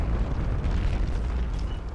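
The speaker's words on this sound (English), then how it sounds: "The bridge was destroyed in a gigantic explosion" A bridge blown up in a gigantic explosion during a Napoleonic battle, a heavy, sustained low boom and rumble that fills the whole stretch at high volume before easing slightly at the end.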